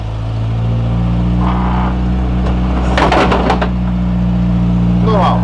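Peugeot 306 engine pulling in third gear, a steady low droning hum with harmonic rumble heard from inside the car, rising slightly as it accelerates, with talk over it.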